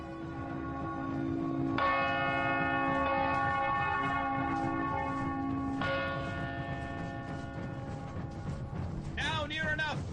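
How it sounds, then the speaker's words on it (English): A heavy alarm bell in a radio drama of Macbeth tolls loudly, several deep resonant strokes ringing out and decaying in turn, layered over a dense background of dramatic sound, with a voice breaking in near the end. "Ring the alarm bell."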